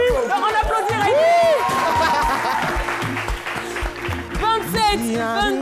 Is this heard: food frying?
no